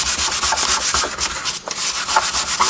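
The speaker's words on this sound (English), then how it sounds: "I remove this shiny, and 400 is this sandpaper's number." A car front grille is hand-sanded with 400-grit sandpaper, heard as fast, even rasping strokes right up close, loud and continuous with no talk.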